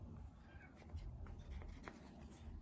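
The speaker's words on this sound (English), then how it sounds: "Sorry for the meowing in the background." A cat meows faintly in the background over a steady low hum, with a few soft rustles and taps nearby.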